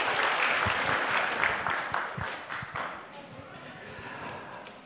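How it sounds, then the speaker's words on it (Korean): Congregation applauding children who recited scripture at a church Bible festival, a fairly loud wash of clapping that gradually fades. "자, 이렇게 암송을 열심히 한 우리 어린이 학생들에게 박수 부탁드리겠습니다."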